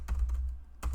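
Quick, soft clicks from a computer keyboard as someone types Python code, a short burst of keystrokes, a brief pause, then more taps, close and quiet with no talking.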